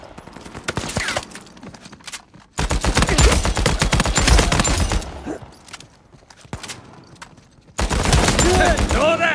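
Gunfire in Uncharted 4's survival mode comes in several loud, sharp bursts of rapid shots, each separated by brief quieter gaps, with the last volley starting abruptly after a lull.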